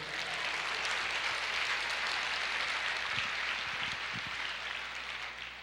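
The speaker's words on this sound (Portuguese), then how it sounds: "Glória a Deus, aplauda ao Senhor." A church congregation applauds, with dense, sustained clapping filling the space evenly and a few low thumps near the end.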